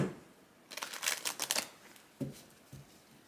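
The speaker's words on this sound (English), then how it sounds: "Just fast forward through my shuffles." Crisp riffling bursts of tarot cards being shuffled, a dense flurry of snaps followed by a couple of shorter shuffles, close by with no talking.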